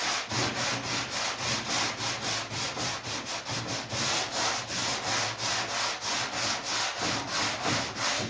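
A 1956 Chevy hood is sanded with 80-grit paper in steady back-and-forth strokes: a loud, continuous scratchy rasp with a regular rhythm and no talking.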